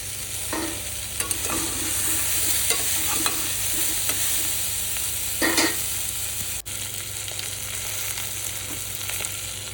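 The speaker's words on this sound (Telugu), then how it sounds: "ఈ లోపల పన్నీర్ ముక్కలు వేసుకొని ఒకసారి అటు ఇటు కలపండి" Paneer pieces are stirred in a frying pan over a steady close sizzle, with a spatula scraping and knocking at irregular moments.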